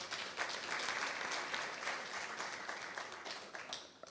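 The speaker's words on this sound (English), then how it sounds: "Can we clap for them?" An audience at a workplace nutrition summit applauds, a soft, steady patter of many hands clapping that carries on for several seconds before thinning out.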